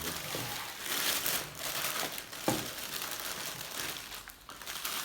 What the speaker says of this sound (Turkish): Poşeti açıyoruz.